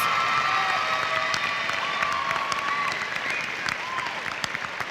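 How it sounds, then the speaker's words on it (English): Applause from a large commencement crowd as graduates honour their families and friends, a dense steady wash of clapping with scattered cheers and whistles rising above it, a few voices audible within the crowd. "Stand up and give them a round of applause to your family and your friends"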